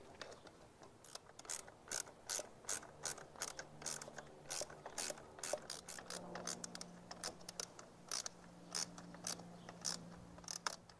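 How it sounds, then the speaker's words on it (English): Ratchet tightening an awning mount on an offroad roof rack outdoors at a campsite, a long run of rapid, close clicking strokes in uneven bursts, moderately loud and with no talk. "Now I'm just going to tighten things up."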